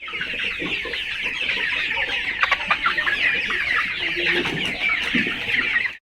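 Chickens on a poultry farm cluck and squawk continuously, a dense, close flock chorus that lasts throughout with no one talking.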